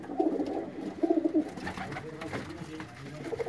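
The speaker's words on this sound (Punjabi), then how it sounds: "ਸਾਡਾ ਕਾਲਾ ਕਬੂਤਰ ਹੈ" A black kamagar pigeon coos nearby in a few rolling, throaty bursts, joined by fainter background bird calls and light rustling.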